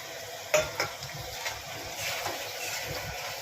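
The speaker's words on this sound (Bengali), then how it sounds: "পনিরটাকে ভেজে রেখেছিলাম এবার এর মধ্যে ছেড়ে দিচ্ছি" Fried paneer dropped into a spiced masala in a pan, with a couple of sharp clatters near the start followed by steady sizzling and stirring scrapes close by.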